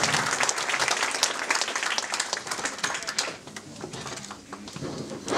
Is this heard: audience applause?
yes